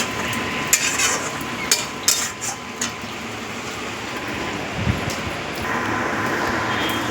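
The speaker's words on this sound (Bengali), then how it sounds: "এবার আমি এর মধ্যে হলুদ, সামান্য একটু লঙ্কার গুঁড়ো দিয়ে ভালো করে কষবো।" Turmeric and a little chili powder are stirred into frying spices in a pan, giving a steady low sizzle with occasional scraping and utensil clinks against the pan, close and fairly constant throughout.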